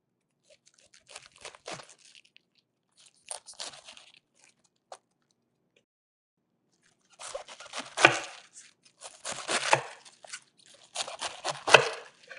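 A knife cuts cabbage into wedges on a board in a home kitchen: crisp crunching bursts come in two short spells separated by a pause, close and fairly quiet, with no talking.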